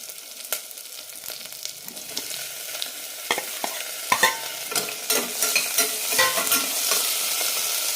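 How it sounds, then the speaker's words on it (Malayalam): Chopped tomato is added to fried onion in a pan for a bottle gourd and red gram curry, then stirred with repeated scraping clicks over a rising, steady sizzle. "സവാള റെഡി ആയിട്ടുണ്ട് ഇനി ഇതിലേക്ക് തക്കാളി ഇടാം"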